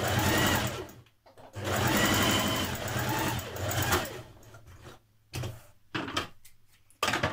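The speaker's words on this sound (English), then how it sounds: "you're going to stitch a 1 centimetre seam" A sewing machine stitches a 1 cm seam in light fabric for a jumpsuit, running in close, loud rattling bursts that stop and restart several times with short pauses between.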